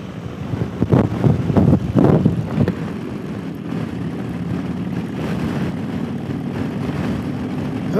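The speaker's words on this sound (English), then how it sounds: "It's really windy out." Strong wind buffets the microphone in heavy low rumbling gusts, loudest early on, then settling into a steady roaring blow.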